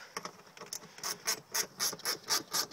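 A ratchet wrench clicks as it snugs down a bolt on a car seat box pressed into carpet, a close series of quick pawl rattles coming in rhythmic bursts that grow stronger toward the end, with no talking.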